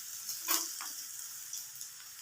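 Onions fry to golden brown in a pan for a king oyster mushroom stir fry. A soft, steady sizzle continues throughout, broken by one brief stirring scrape early on.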